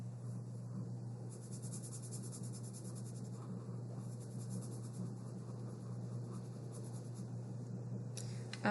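A black marker squeaks and scratches faintly across paper while outlining a drawing, soft intermittent strokes over a steady low hum, with a brief louder rustle at the end.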